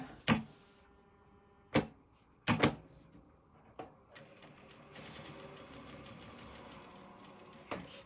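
Sewing machine stitching a seam on a basic quilt block, heard as several sharp, close mechanical bursts spread through the clip, with softer needle chatter in between.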